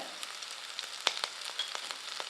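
Shallots, garlic and curry leaves sauté in hot oil in a pan, giving a steady close sizzle with brief crackles and pops and occasional stirring scrapes.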